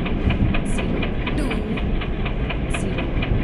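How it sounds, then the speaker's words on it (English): In the Indian Train Simulator game, a goods express train rolls into a station platform with a steady engine drone and rhythmic clicking wheel beats, loud and close, with brief hissing bursts. "1 Goods Express is arriving at platform number 4."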